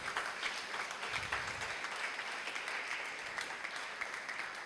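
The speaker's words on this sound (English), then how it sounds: "Brethren, you have to applaud" Gathered brethren applauding at a Universal Brotherhood Day 2023 event, a fairly quiet, steady patter of many hands clapping throughout.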